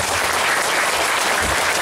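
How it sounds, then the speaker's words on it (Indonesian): Applause from an audience during a parenting session at an Islamic boarding school, a steady dense clapping that fills the whole moment, loud and continuous with no break. "tepuk tangan pada kita"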